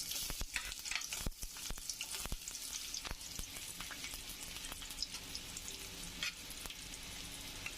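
Onions hit hot oil for an okra and shrimp dish, giving a dense, close crackling sizzle with frequent sharp pops throughout and no talking.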